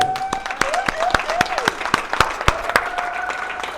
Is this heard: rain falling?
no